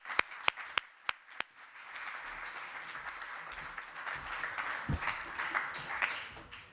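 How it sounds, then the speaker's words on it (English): Audience applause welcoming speaker Rob Hopkins at an energy talk event, opening with several sharp separate claps and then swelling into steady, moderately loud clapping from a crowd that carries on throughout. "Give a hand of applause to welcome Rob Hopkins."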